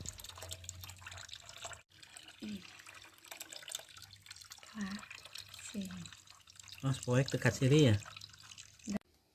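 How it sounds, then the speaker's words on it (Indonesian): Water draining through a small hose from a container while making virgin coconut oil, after the water and coconut milk have separated: soft trickling and dripping with a few gurgles, under a person speaking. "Maka keluarkan air dengan selang kecil sampai habis."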